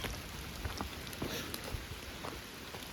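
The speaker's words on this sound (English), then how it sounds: "It's raining." Steady rain falls and patters on a surface on the Appalachian Trail, a continuous dense hiss with scattered drops, no voices.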